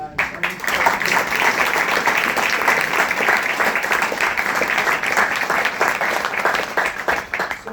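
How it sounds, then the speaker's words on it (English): A crowd at a military retirement ceremony applauds steadily, dense clapping that holds at a constant level throughout without pause. "I'd like to ask for a round of applause"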